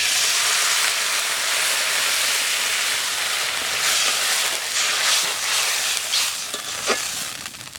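Water poured into a hot pan of dry fish curry with green chilies sets off a loud, dense steaming hiss and sizzle that fills the air, easing slightly with a few crackles near the end.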